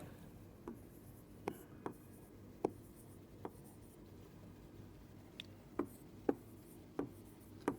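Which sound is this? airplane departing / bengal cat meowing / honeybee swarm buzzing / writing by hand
writing by hand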